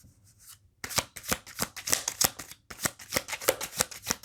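Tarot cards are shuffled and laid out in crisp papery snaps and flicks, close and fairly quiet, starting after a short near-silent pause and then continuing in a quick irregular rhythm.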